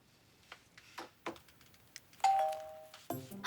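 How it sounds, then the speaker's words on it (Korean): A single two-tone doorbell chime rings out clearly after a few faint taps and knocks, followed by a brief second ring at the end. "밖에서 들리는 초인종 소리"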